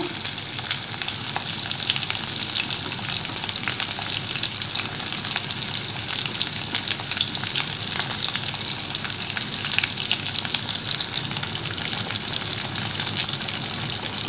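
Small shallots sautéing in hot oil for a mutton keema gravy, a loud, dense, steady sizzle and crackle that fills the whole stretch without pause, close up and with no voices.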